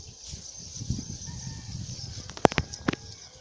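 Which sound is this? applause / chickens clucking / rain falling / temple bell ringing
chickens clucking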